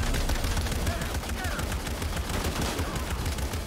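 Gunfire from the video game Shadow of the Tomb Raider rattles in a dense, continuous barrage of loud rapid shots that fills the whole moment.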